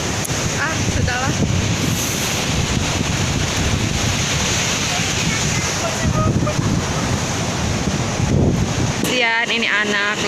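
Beach waves and wind at Watu Kodok beach, a loud, continuous rush of surf and gusting wind buffeting the microphone, with voices talking over it in places.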